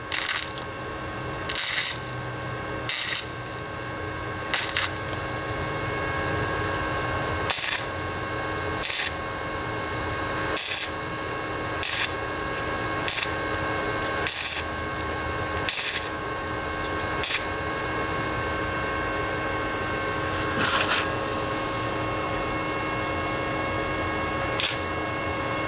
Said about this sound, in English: So, a lot of spot welding going on right here, as you can tell.